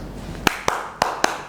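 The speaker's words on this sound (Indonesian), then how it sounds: "Kalau saya bilang tepuk dua bunyinya gini." In a school classroom, the 'tepuk dua' clapping rhythm sounds as four sharp, close hand claps in an uneven pattern, two pairs with short gaps, each a crisp isolated snap over quiet room noise.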